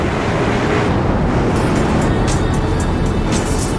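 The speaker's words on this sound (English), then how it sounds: "A Land Rover drives through the waterfall." A Land Rover drives through a waterfall in the Forza Horizon video game: a loud, steady rush of falling water blends with engine noise throughout, with no speech.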